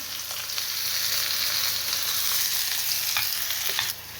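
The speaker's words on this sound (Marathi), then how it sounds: "लसूण आता लसूण तळून झाल्यानंतर कांदा टाकत आहे" Onion frying in oil after garlic for an okra dish, a steady bright sizzle with a couple of faint stirring scrapes, even and fairly loud throughout.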